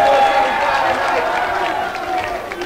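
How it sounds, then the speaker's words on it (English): A crowd at a 2015 Redbank vs Clarion high school pep rally applauds and cheers for the band, a loud dense wash of clapping and voices that tapers slightly toward the end. "let's get a round of applause for the band for playing for us"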